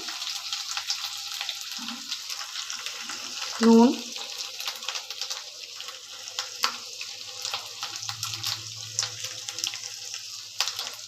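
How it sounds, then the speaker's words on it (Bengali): Potatoes frying in a pan with ginger paste give a faint, steady hiss dotted with small crackles and clicks, plus one brief louder thump partway through. "এবার একটু আলুগুলো ভাজা ভাজা করে নিচ্ছি।"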